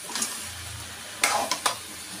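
Chili powder fries in a hot pan for a curry, giving a steady broadband sizzle and hiss with a few sharp crackles and scrapes near the end, heard up close with no talking.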